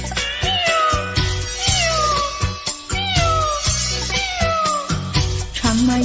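A Taiwanese-language duet song in which a singer's voice imitates a cat meowing, with repeated rising and falling meow-like vocal glides over steady music and a regular beat.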